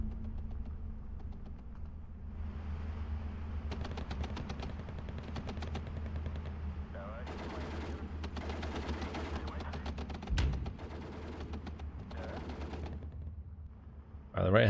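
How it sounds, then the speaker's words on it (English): Sustained machine gun fire from the Steel Division 2 war game, with rapid bursts of clattering shots layered over a constant low battle rumble and a louder thump near the end. "And the machine guns on the left. Tons of machine guns."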